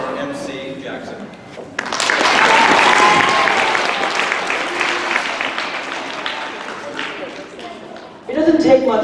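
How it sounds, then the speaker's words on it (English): A round of applause for an MC at an All Saints Day school presentation, loud sustained clapping from an audience lasting several seconds, with talk before and after it. "we also want to have a round of applause for our MC"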